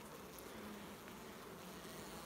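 Honey bees in a hive being checked from the bottom make a faint, continuous low buzz, a steady hum with no breaks throughout.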